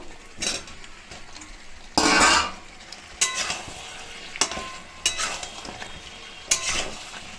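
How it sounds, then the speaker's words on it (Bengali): Potatoes fry with mutton in hot oil in a pot over raised gas, giving a continuous sizzle broken by several loud bursts of stirring and scraping of a metal spoon against the pan. "গ্যাসটা বাড়িয়ে দিয়ে এর মধ্যে আলুগুলো দিয়ে দেব একটু কষাবো"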